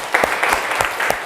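Brief classroom applause from students praising a group presentation, a short burst of scattered, fairly close hand claps.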